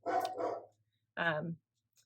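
Dogs bark indoors, two loud sharp barks close together followed by a third after a short pause, near and clear with no talking over them.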